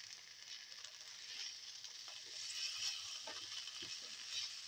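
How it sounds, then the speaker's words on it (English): Fenugreek leaves sauteing in a hot pan for an okra and potato rice dish give a steady, soft sizzle and hiss throughout, quiet and close, with faint scattered ticks from stirring. "thoroughly sauteing it."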